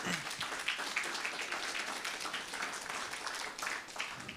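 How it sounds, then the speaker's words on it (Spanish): A church congregation at a Sunday service claps in a dense, continuous burst of applause, moderately loud and even, with no voices over it. "Vamos a recibir, por favor, con fuertes aplausos."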